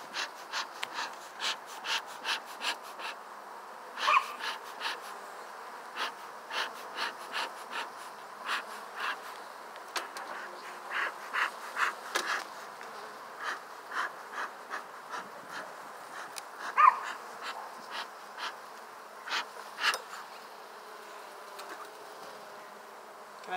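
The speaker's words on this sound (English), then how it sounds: "I'm starting to get used to the sound of" Honeybees buzz around a hive during a day-ten inspection, close and continuous, with pulsing swells and individual bees zipping past the listener; no one speaks.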